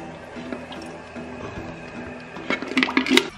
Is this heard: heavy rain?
no